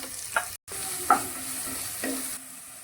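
Onion and curry leaves fry in hot oil in a pan for a Mangalorean egg sukka, giving a steady sizzle broken by a few soft stirring knocks.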